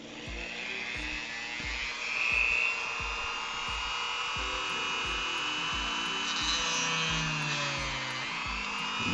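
A Dremel rotary tool with a grinding bit shaping an action figure part whines at a steady high pitch, with rapid rhythmic ticking and faint buzzing throughout, close and moderately quiet.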